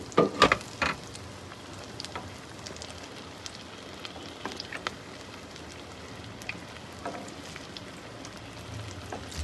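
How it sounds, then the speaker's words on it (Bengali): Egg-coated fish cutlets deep fry in hot oil, giving a steady, even crackle like light rain, with a few sharper clatters at the start and occasional spits throughout. "সেভাবে সবগুলো কোট করে ডুবো তেলে ভাজবো"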